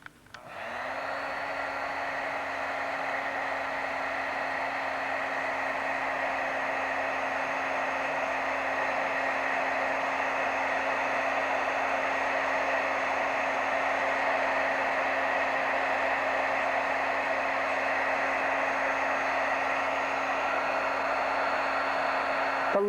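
A heat tool blowing hot air onto freshly stamped ink, a loud continuous whooshing hum with a steady motor whine that holds unbroken for over twenty seconds.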